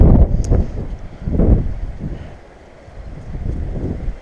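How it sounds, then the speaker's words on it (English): Hard northeast wind blows across a New Jersey shoreline before a storm, with loud low gusts buffeting the microphone in surges that ease off midway and then build again, with no talking. "We have a hard northeast wind today"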